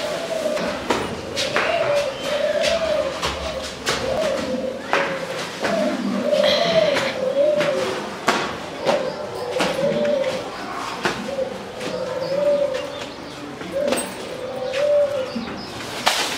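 Doves in a rooftop bird room coo over and over in a steady rhythm, close by and clear, with scattered sharp clicks and some talk in between.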